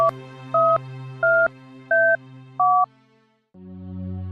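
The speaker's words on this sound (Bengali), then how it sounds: "দেখি বিপুলকে একবার ফোন করি।" A telephone is dialed, five even two-tone keypad beeps in steady rhythm over a low hum, followed after a brief gap by a lower continuous tone.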